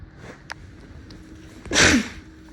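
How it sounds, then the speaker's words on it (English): A single short human sneeze at close range, following faint breathy sniffing in an otherwise quiet room. "oh, sorry, I had to sneeze."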